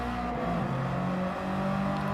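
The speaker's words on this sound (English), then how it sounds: "So revving the car, making sure that my traction control is down to 0 and back on the throttle" Race car engine in Gran Turismo 7 holds a steady, buzzing rev with harmonic whine, sounding continuous and fairly quiet with no talk.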